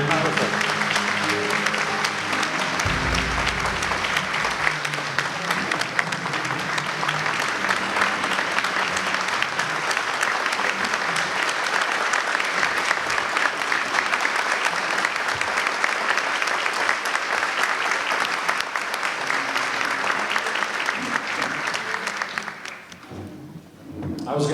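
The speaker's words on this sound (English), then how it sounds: "hey, let's give a round of applause for Harvey and Rodney, but you guys totally beat me to the punch" A large audience breaks into sustained, steady applause for Harvey and Rodney at a customer service event, loud and continuous for over twenty seconds before tapering off sharply near the end.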